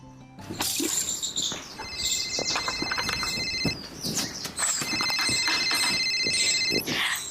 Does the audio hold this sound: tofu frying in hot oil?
no